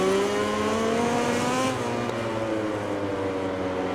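A KTM racing motorcycle engine in MotoGP 20 screams steadily at high revs, its pitch climbing through gears with a brief shift dip partway through, loud and continuous with no talk.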